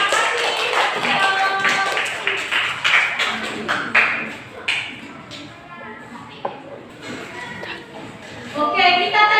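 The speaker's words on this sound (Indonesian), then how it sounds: "tepuk tangan untuk Tio" A class of children claps for a classmate in a schoolroom, a dense burst of applause that fades and returns, with children's voices talking over it.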